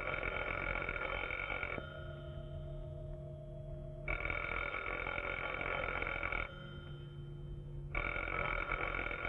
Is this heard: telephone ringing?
yes